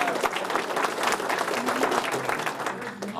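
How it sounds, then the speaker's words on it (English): Clapping from a crowd at a square dance club Christmas party, cheering a line dancer, a short burst of steady mixed applause at moderate distance. "clap her on"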